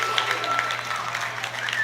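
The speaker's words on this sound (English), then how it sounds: "with a roar from the crowd" Crowd at the IPF Junior Worlds 2025 powerlifting meet cheering and applauding a new World Junior total record in the 93 kg class, a dense, steady wash of clapping and roaring voices with a constant electrical hum underneath.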